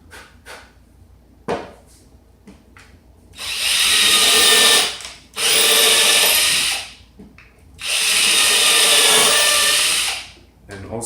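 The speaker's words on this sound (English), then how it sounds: "Careful when you're drilling, the bit can get hot" A power drill bores in three loud bursts of a few seconds each, close by, separated by short pauses, with scattered knocks and handling sounds before the first burst.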